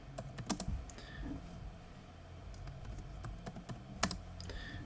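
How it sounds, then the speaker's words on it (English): Rapid typing on a computer keyboard while entering text in InDesign: close, crisp key clicks in uneven bursts, with a few louder isolated strokes near the end. "So I'm going to type out"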